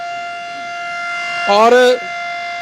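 A sugar mill's blackout siren (ghuggu) in Nawanshahr holds a steady, loud, high tone, while a voice speaks briefly over it.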